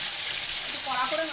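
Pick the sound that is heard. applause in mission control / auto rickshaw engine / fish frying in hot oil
fish frying in hot oil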